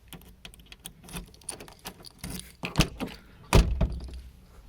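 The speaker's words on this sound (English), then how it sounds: "And another functioning door lock." Door lock mechanism on an old, neglected Mercedes 300CD clicking and clunking, several soft close taps and rattles followed by a couple of firmer thunks as the lock actuates.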